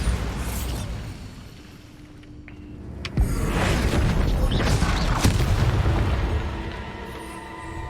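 Bombarda spell explosion in Hogwarts Legacy, a deep booming blast that swells into a long rumbling roar with a couple of sharper cracks on top, following a quieter rumbling lead-in, with no talking.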